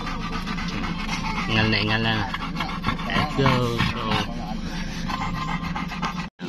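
A dog pants in quick, steady breaths close by, with rubbing and scuffing noises and a person talking over it.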